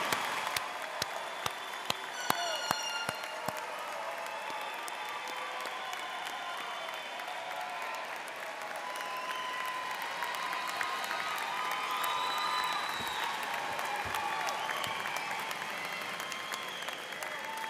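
A large crowd at the Warner College of Natural Resources commencement claps and cheers to congratulate the 2023 graduates, producing a sustained, even wash of applause with a few sharp nearby claps and scattered shouts throughout.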